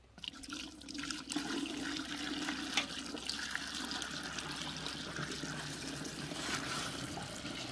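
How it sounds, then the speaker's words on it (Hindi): Water poured into a pesticide solution mixed for spraying coconut plants: a steady, close splashing and gurgling stream that runs continuously for several seconds at moderate loudness. "इसमें पानी डाल देंगे"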